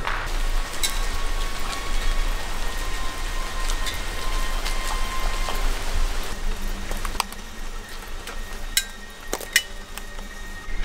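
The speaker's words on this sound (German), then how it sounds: "Der Regen plätschert überall." Rain pattering and splashing all around a forest at 2 a.m., a steady dense hiss of drops on leaves and ground with sharper nearby drips and a few clinks, close and continuous with no talking.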